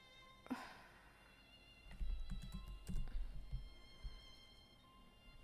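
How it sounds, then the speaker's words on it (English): One-handed typing on a computer keyboard: scattered key clicks and soft thunks in uneven bursts, close and fairly quiet, with no talking. "I'm doing a great job with all this one-handed typing stuff."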